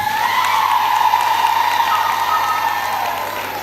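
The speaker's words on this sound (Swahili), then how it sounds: "Hebu mpigie makofi." A church congregation applauds Father Tito after Mass, a steady, dense wash of clapping that holds for several seconds and eases slightly at the end.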